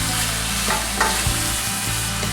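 Chicken curry meat with onion frying in hot oil in a pan, a steady loud sizzle throughout with a few brief stirring scrapes, no talking.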